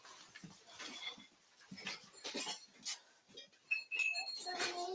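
Dogs move around inside a house, giving short whimpers, pants and snuffling noises in scattered bursts with small clinks, fairly close and quiet, and no clear talk over them.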